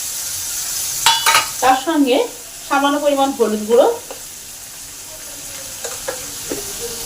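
Tomato with ginger and spices such as turmeric fries in a pan for a potato curry, giving a soft, steady sizzle beneath a person talking.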